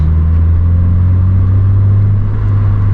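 A 2022 Subaru BRZ with an HKS Spec-L exhaust idling with a deep, steady low rumble, loud and close with no talk over it.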